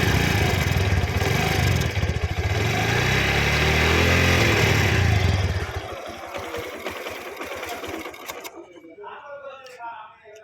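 A Caliber 115cc motorcycle engine idling close by, a steady rattling hum that drops to a quieter, lighter tick partway through, with nearby background talk.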